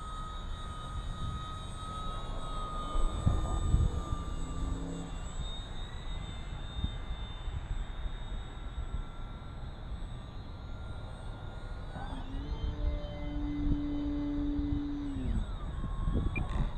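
An E-Flite Maule M-7 1.5m electric RC airplane flies overhead on a cold day, its motor whine rising and falling in pitch as it passes, with steady wind noise underneath and no talk.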